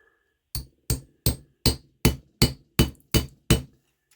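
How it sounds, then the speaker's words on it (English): A hammer taps a Schrade Uncle Henry knife blade resting on a small anvil, nine evenly spaced sharp metallic strikes, close and clear with silence between them. "tap that down in there just a little bit between the blade and the bolster without cutting into that soft brass"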